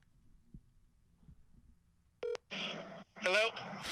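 A phone call is placed: a short tonal burst like a dial beep, then ringback-style tones on the line, fairly clear after a quiet stretch with faint low thumps.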